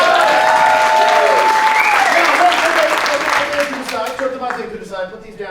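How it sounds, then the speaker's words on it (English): An audience bursts into loud applause after a juggling act at a Caribbean magic show in Puerto Rico, strong at first, then tapering off with sustained tones and scattered noise fading out. "Let's give them a round of applause."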